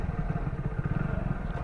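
Motorcycle engine running steadily up close as a bike taxi ride gets going, a continuous low throbbing rumble with no talk over it.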